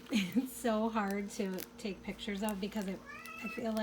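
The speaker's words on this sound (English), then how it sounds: "sorry, that's my cat." Domestic cat meowing repeatedly at close range, several short rising-and-falling calls mixed with someone talking over them in a quiet indoor room.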